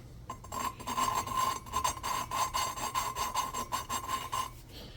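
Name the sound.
lapping tool lapping a golf cart engine valve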